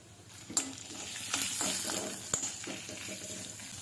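Chopped onion hitting a hot pan with garlic and mustard seeds, soft sizzling with a few sharp crackles and stirring scrapes, fairly quiet and close.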